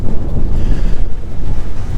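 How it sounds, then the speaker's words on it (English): Heavy wind on the deck of the Carnival Luminosa cruise ship during a storm buffets the microphone in loud, rumbling gusts, a constant roar with no voices. "Now it's windy out here because we're going through a storm."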